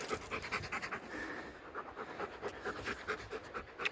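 A dog pants hard after climbing high up a mountain in a river gorge. The quick, rhythmic breaths are close and continuous, with no talk.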